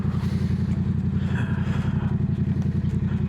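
A Yamaha R7 motorcycle engine, fitted with an R6 throttle tube, runs loud and close with a rapid, pulsing rumble throughout as the throttle is worked.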